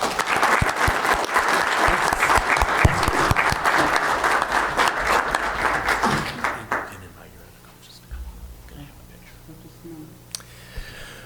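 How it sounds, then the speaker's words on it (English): Round of applause from the audience at a county government meeting, honoring a coaching group: dense clapping for about six seconds, then tapering off to a quiet room with scattered small noises. "Will you join me in giving this group a round of applause?"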